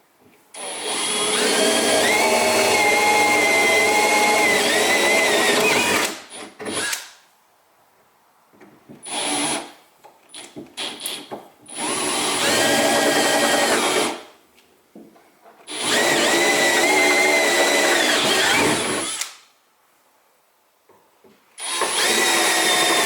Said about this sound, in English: we don't have holes, you got to drill them, so not a big deal, just 3 little holes